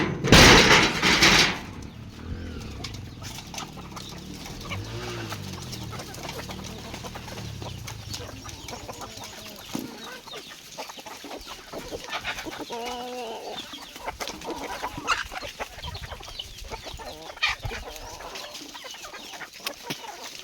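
Desi country chickens on a rural poultry farm cluck and squawk almost constantly, with a loud flurry of close calls at the start followed by scattered nearer and farther clucks.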